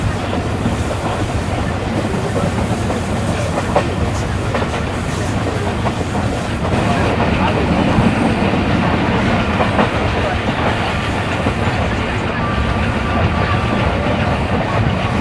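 The 16 Down Karachi Express passenger train running along track in Sindh, a steady loud rumble with rhythmic clickety-clack of wheels over rail joints and a faint hiss, continuous throughout.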